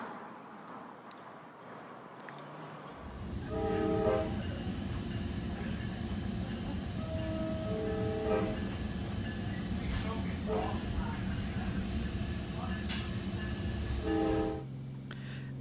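Tri-Rail commuter train running along the Florida coast, a steady low rumble with tonal hum and rail noise building in after a quiet start, with people talking faintly over it.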